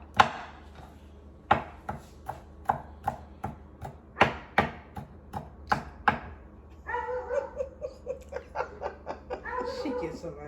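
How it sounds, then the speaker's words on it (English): Sharp knife chopping fish and shrimp for ceviche on a board, a quick run of close, crisp strikes in steady rhythm, then softer rapid cuts under light background chatter. "I'm not cutting these up too small."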